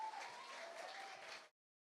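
A church congregation claps during a Sunday worship service, a fairly quiet but even, dense patter of many hands that runs for about a second and a half and stops abruptly.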